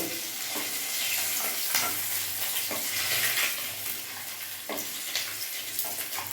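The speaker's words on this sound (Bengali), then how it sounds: "মাছগুলো আমার ভাজা হয়ে গেছে, মাথাগুলো, এবার আমি এক এক করে নামিয়ে ফেলবো।" Fish heads sizzle in hot oil in a pan as a Bengali muri ghonto is made, with steady frying hiss and scattered scraping clinks as pieces are lifted out one by one, close and continuous, no talking.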